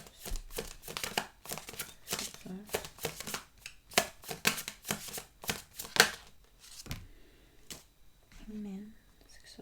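Tarot cards shuffled in quick, dense bursts of papery flutters and slaps through most of the stretch, close and moderately loud, with a few short pauses and softer handling near the end.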